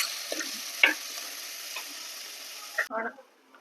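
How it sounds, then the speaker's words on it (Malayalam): Onions frying with mustard seeds, dried red chillies and curry leaves, a close hiss with sharp spoon scrapes and ticks; the sizzle cuts off near the end, leaving a few clattering stirs. "നമ്മുടെ ഉള്ളി ഇത്രയും മൂത്താൽ മതി."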